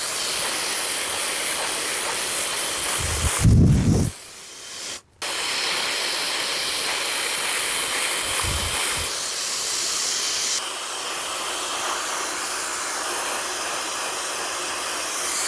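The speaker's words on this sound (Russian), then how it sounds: "включаю теплый поток воздуха, подхватываю прядь" A hair dryer blows a steady warm stream of air while a round bristle brush styles a short bob haircut, a loud continuous hiss with a brief dip and a sharp cut partway through, close to the microphone.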